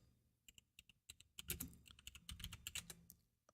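Someone types on a computer keyboard close by, tapping single keys in an uneven rhythm that speeds into a denser burst of keystrokes before slowing again, with no talk over it.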